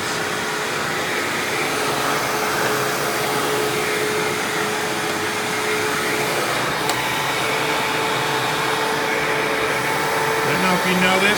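A Hoover WindTunnel bagless self-propelled upright vacuum, model U6616-900, running with its brush roll engaged, giving a loud, steady motor whine and airflow roar close by, with a faint extra whir near the end.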